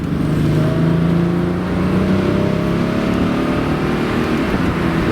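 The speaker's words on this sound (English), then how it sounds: "Engine winding a little bit." Engine of a 1991 Chevrolet Cavalier RS convertible accelerating on the road, a loud, steady drone with rising tone and whirring, heard from inside the car without talking.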